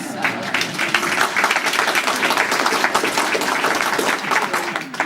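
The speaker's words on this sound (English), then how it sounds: "How about you give yourself a round of applause?" An audience at a conference for frac sand activists bursts into steady, dense applause, many hands clapping together for several seconds and tapering slightly at the end.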